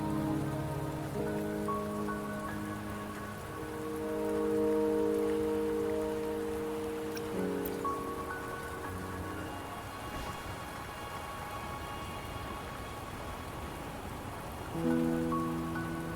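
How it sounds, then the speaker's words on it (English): Steady rain falls in the Wuthering Waves game, a continuous close hiss of drops on surfaces running beneath layered music for the whole stretch. "Don't worry, the rain won't last much longer."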